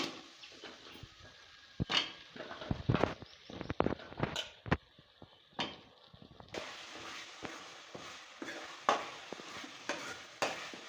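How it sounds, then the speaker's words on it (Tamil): Drumsticks sautéing in oil for kara kuzhambu: a low, steady sizzle broken by repeated scraping and clattering stirs of a spoon against the pan, close and fairly quiet, no talk. "காரக்குழம்புக்கு இந்த மாதிரி காய் சேர்த்து நம்ம வதக்குறோம்"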